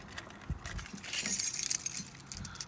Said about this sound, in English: let's put the key in.